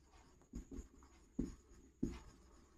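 Pen strokes on paper, close and faint, with a few distinct scratchy taps and short scribbles separated by brief pauses.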